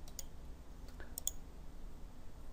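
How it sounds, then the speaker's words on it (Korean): A computer mouse gives a few quiet, crisp clicks, including a quick double click, in an otherwise near-silent room. "블록 더블 클릭하겠습니다"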